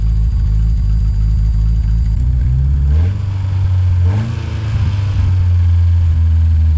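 A 2.2-liter engine in a cheap, long-neglected Dodge Charger idles steadily with a low, even rumble, dipping and rising briefly with a couple of light revs midway before settling back into a steady idle, no voices present.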